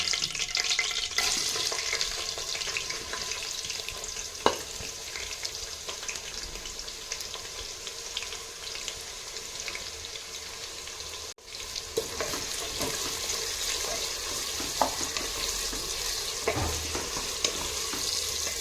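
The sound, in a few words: sliced onions frying for mutton biryani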